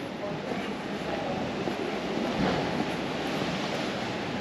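Seashore waves rolling in beside an old fortified town, a steady broadband wash of surf with mild wind on the microphone, swelling slightly midway.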